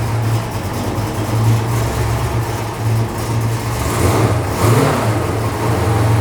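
Two cars, a classic and a new one side by side, rumble and rev loudly, deep idling punctuated by rising throttle bursts, close by with no talking.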